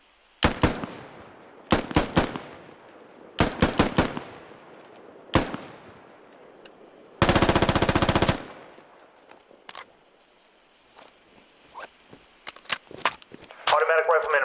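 A rifle fires in the military shooter game Squad, sharp single shots spaced a second or two apart, followed by a long automatic burst and scattered later shots, loud and close.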